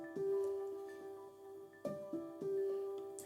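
First piano layer of a song's main loop: a few sustained, ringing notes struck at intervals, with new notes entering near the midpoint and again later, clear and close with no voices.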